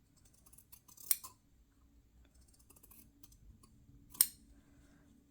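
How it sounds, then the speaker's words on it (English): Scissors cut fabric for a needlebook in two sharp, close snips a few seconds apart, with faint handling noise in an otherwise quiet room. "Let me just cut off a little bit more."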